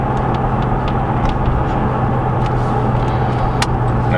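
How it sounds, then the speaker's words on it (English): A 1996 Chevrolet Impala SS heard from inside while driving: steady road rumble and low engine drone fill the cabin at constant loudness, with faint ticks above it. "Okay, Dan, what are we driving today? My 96 Impala SS"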